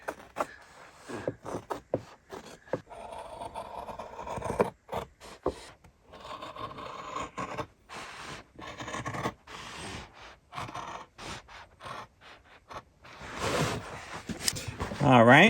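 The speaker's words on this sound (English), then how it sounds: "our Wiss shears, they just cuts" Wiss shears cut through canvas in a string of short, rasping cuts separated by brief pauses. The cutting is close and fairly quiet, with a voice heard at times.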